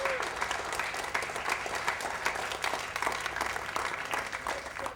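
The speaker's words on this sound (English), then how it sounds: "You should applaud all of yourselves very much" A film crew claps together at the wrap of the movie shoot for 'My Name is Bruce', a sustained, fairly close round of applause with scattered cheers and a faint background hum.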